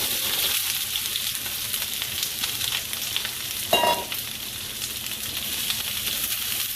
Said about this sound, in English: I'm going to saute these peppers and onions.